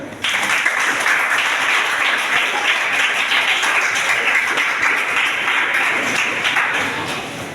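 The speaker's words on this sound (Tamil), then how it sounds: "இது ஒரு கைத்தட்டலாம்" Audience at a Tamil poetry recital on books and reading bursts into applause, a dense, sustained round of clapping that starts abruptly, holds steady for several seconds and tapers off gently, with no talking over it.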